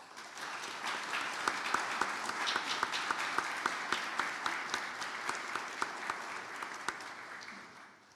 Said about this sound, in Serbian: Molim vas za aplauz.